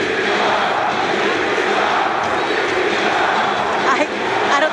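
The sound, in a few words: wrestling arena crowd cheering in Tbilisi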